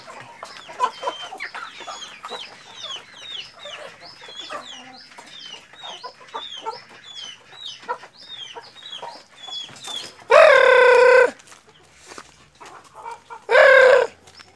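Bangkok-breed rooster and hens cluck in quick, busy bursts while pecking at corn feed, with two loud, sustained calls standing out near the end.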